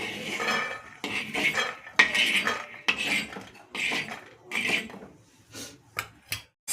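A spoon scrapes and clinks against a pan as roasted peanuts and coconut are scooped out for masala dosa filling, a run of close, uneven metallic scrapes followed by a few sharp separate clinks near the end.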